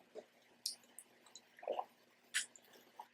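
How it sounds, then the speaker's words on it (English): Someone taking a sip of water close to the microphone: quiet wet slurping, small mouth clicks and a soft swallow in a near-silent room. "I'm going to take a sip of water"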